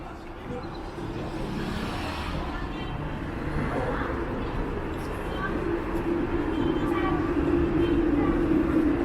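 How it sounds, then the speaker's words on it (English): An airport express train rumbles steadily into Toronto's Union Station with a low, continuous roar that builds slightly, mixed with city background noise and faint voices nearby. "there's another train pulling into Union Station"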